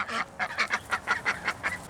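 Geese or similar waterfowl honk in a steady run of about ten calls over two seconds, close and fairly loud, with no talk.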